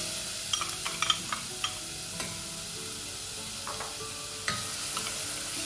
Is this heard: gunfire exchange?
no